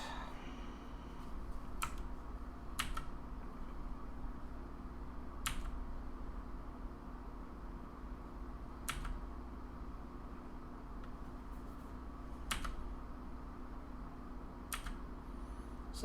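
Sparse, sharp key clicks on a 1st Player DK5.0 mechanical gaming keyboard, about eight single presses spaced a second or two apart over a steady low room hum, with no talking.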